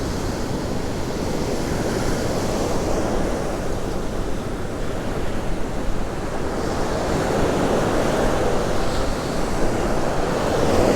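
Ocean waves wash onto the beach at Bob Graham Beach on Florida's Treasure Coast, a constant loud rushing surf mixed with wind buffeting the microphone, with no voices.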